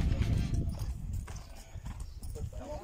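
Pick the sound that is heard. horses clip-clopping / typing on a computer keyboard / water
horses clip-clopping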